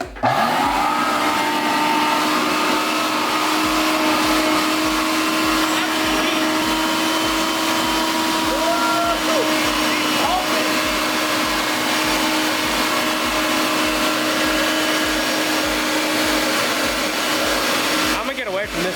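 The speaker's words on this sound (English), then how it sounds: "sucking all the old fuel" A vacuum sucks old fuel out of a car being readied for boost, a loud, constant motor whine and airflow roar that holds steady for the whole stretch with faint voices underneath.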